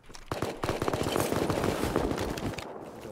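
An AK rifle firing in the game Rust, with a rapid automatic burst of sharp close shots that runs for most of the clip before stopping near the end.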